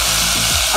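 Tomatoes cooking down in a pan over a low flame for ragda chaat, a steady close sizzle with faint stirring scrapes and no talk.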